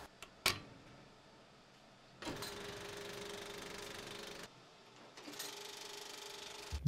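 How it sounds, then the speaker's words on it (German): A film projector runs with a steady mechanical whirring and clattering, on and off, faint and continuous, with a rhythmic ratcheting texture and a few sharp clicks early. "Der gute alte Filmprojektor ist so wie eine gute alte singende Nähmaschine."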